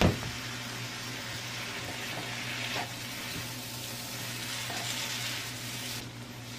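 Potato stir-frying in a pan with a little sauce, tempura-style: a steady, close sizzle runs throughout with brief scraping stirs, fading slightly at the end.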